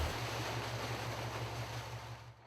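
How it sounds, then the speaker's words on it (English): Water rushing out of the passenger-side dump on a fire tender, a steady loud broadband gush with a low rumbling undertone that holds evenly before easing slightly at the end. "Sarah will dump water from the passenger side first, using the button on the outside of the tender"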